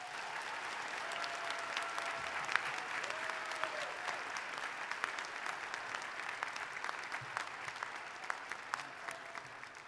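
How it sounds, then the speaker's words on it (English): Faint, distant applause from an audience at a school Veterans Day program, a dense, even patter of many hands with a few brief tones mixed in. "how about a round of applause for these amazing fifth graders behind me?"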